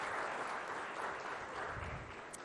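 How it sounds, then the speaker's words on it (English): Warm round of audience applause at an IT conclave honouring a retired ISRO chairman, steady crowded clapping from a large hall, moderately loud and continuous with no speech. "let's give him a very warm round of applause for that."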